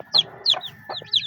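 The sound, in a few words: chickens clucking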